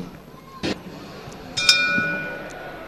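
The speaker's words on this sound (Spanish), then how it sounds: "Campana y arranca el combate." A boxing ring bell rings to open the first round of a women's professional bout, a short bright strike heard over arena crowd noise and a commentator's voice.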